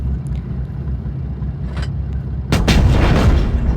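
A tank cannon fires in World of Tanks Blitz, one loud boom arriving after a stretch of low ambient rumble and faint clicks, then a sustained echoing tail.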